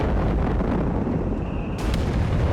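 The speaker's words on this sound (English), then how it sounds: "Artillery called in here on the British position by the victory point." Artillery explosions in the strategy game Company of Heroes 3, shells landing on a British position: a dense, loud, rumbling barrage of blasts that roll into one another, ending in a sharp crack.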